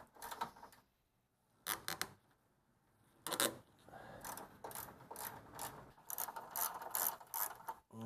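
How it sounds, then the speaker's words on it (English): A ratchet backs out a 10 mm bolt on a 2005 Honda Accord during an AC condenser replacement: quick bursts of fine metallic clicking, close and fairly quiet, separated by short pauses. "Okay, the 10 millimeter bolt is out."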